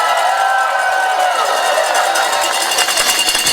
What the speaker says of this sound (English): Let's give her all a big round of applause.